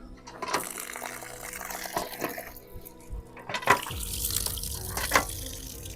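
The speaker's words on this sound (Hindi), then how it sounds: "पानी है भी सही। चलो भाई छट्टा मार ले मुंह पे।" Water runs from a tap into a sink and is splashed onto a face, a steady rushing stream with a few louder splashes and gurgles, close by and without talk.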